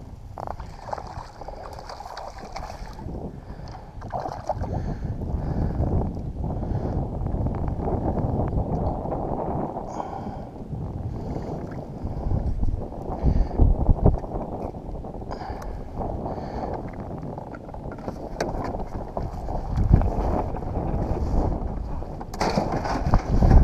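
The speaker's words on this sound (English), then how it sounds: "got a heck of a wind pushing us from behind" Steady wind blowing over a kayak on a canyon reservoir, a continuous low rumbling buffet with faint water wash, loud and close, no talking.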